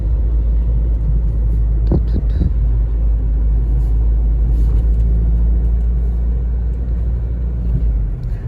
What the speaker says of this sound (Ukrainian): їду в Рю, переїжджаю міст через Гарону